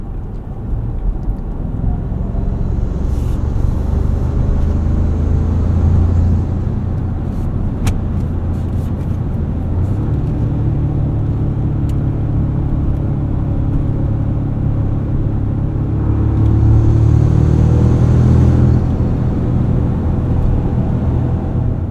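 A 2024 Toyota Tacoma Trailhunter with 8-speed automatic and 33-inch tires rolls downhill, its engine and road noise a steady low rumble that swells louder near the end, heard from inside the cab.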